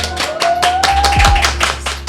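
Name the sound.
applause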